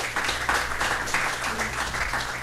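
Live jazz-club audience applauding a drummer, a steady wash of clapping with a low band hum underneath throughout.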